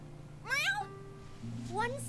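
A cat meows twice in the video game Another Eden as a character greeting. The two clear rising meows sit apart over a low steady game background hum.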